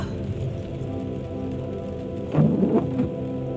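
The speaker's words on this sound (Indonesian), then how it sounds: "Hujannya gede banget." Heavy rain falling on a remote island construction site, a dense continuous hiss with a louder rumbling surge near the end, no voices.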